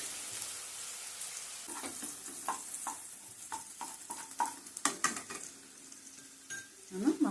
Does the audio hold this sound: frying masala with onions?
yes